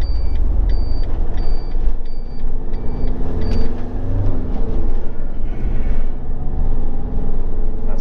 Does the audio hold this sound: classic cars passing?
yes